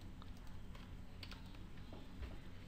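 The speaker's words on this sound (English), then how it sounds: "I'm gonna start typing faster." Quiet computer keyboard typing, a steady patter of soft key clicks with no voices.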